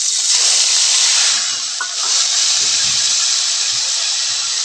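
Spice paste tipped into hot oil in a pan, with a loud, steady hiss and sizzle that holds the whole time, a brief dip near the middle, and faint clatter underneath.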